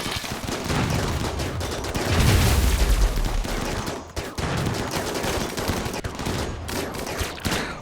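Rockets strike a shield in RimWorld, a rapid volley of loud, overlapping blasts with a deep rumble building in the middle, continuing as dense crackling impacts.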